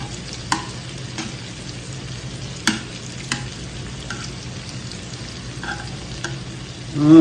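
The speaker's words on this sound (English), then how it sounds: "So now we can flip our shrimp." Shrimp fry in a pan with a steady low sizzle throughout, broken by a few sharp clinks and scrapes as they are flipped, close and without talk.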